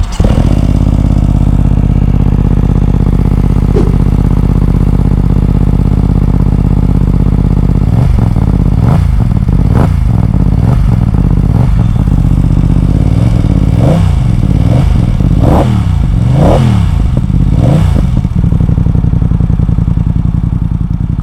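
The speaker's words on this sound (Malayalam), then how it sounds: "ഒരു ആക്രാപോവിക്കിൻ്റെ എക്സോസ്റ്റ് നോട്ട്" BMW F 900 XR motorcycle fitted with an Akrapovic exhaust, idling steadily and then blipped through a run of sharp throttle revs in the second half, loud and close with no talk over it.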